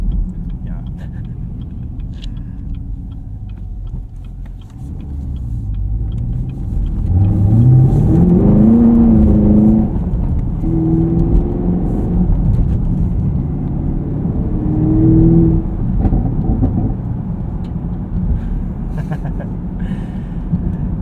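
A 2023 Chevrolet Camaro 1LT convertible with a 3.6L V6 and manual gearbox drives along, its engine rumbling low, then revving up through gears in rising pulls before settling back to a steady cruise.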